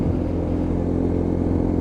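Lexmoto LXR motorcycle with a new chain and sprocket, ridden while weaving back and forth to scrub in new tyres: a steady, close engine drone with low rumbling harmonics, holding at a fairly constant pitch throughout.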